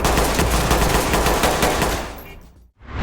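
Rapid automatic gunfire from a Ready or Not VR tactical SWAT shooter game, a loud sustained burst that cuts off near the end before sound resumes.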